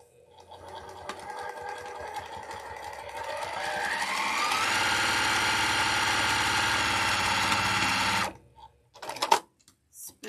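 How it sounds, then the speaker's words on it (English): A sewing machine stitches a seam with a steady, fast mechanical whir that climbs to full speed and holds close and loud for several seconds, then stops abruptly and leaves a few faint clicks and handling noises. "spin it around, sew this other seam"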